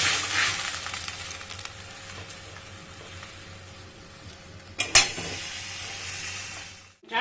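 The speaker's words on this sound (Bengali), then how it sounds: "আমটা একটু ফুটলে" Mango pieces simmer in water in a pot for mango chutney, giving a steady bubbling hiss that fades slowly, broken by a brief sharp clatter near the end.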